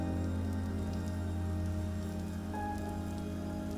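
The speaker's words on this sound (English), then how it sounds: "Sadly, it started raining." Steady rain falls in a video game world, a constant hiss of drops on surfaces over a low droning hum of game ambience, with no voices.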